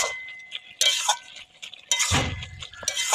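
A metal lid is lifted off a cooking pot with a couple of sharp clinks and scrapes, followed by a brief rush of steam and sizzle, close and fairly loud.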